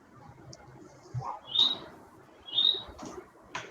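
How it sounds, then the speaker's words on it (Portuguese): A small bird chirps twice in short, bright bursts, fairly close, over a low murmur of indoor background noise. "Quem tem um passarinho aí?"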